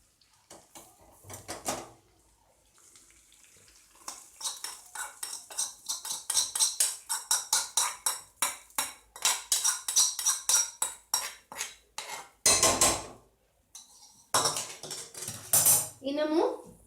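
Pepper tempering for ven pongal tipped from a metal pan into the pot and stirred, giving loud repeated clinks and scrapes of cookware and spoon in quick bursts, with short pauses and no talking.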